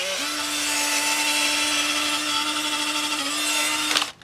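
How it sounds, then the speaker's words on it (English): A handheld drill with a polishing pad spins at a steady whine, buffing a guitar neck, running continuously before a brief clatter at the end. "And I've got my drill. Little polishing pad on here."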